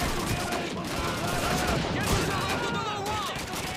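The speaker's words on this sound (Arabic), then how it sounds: "شوفوا ذاك ضربني طلقة لان سلاحي مو الماني" Gunfire in the Call of Duty 2 video game crackles in dense, continuous bursts, loud and busy throughout, with someone speaking over the shooting.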